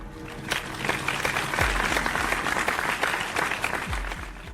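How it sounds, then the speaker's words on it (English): A room full of people claps in sustained, dense applause, steady and moderately loud throughout. "Everyone, a huge round of applause for Ben Burner."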